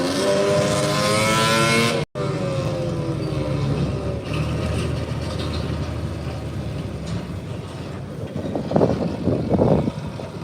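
A strong-running garden tractor engine roars loudly and continuously during a pull in Ohio, a steady heavy drone with a brief cut early on and rising strain near the end.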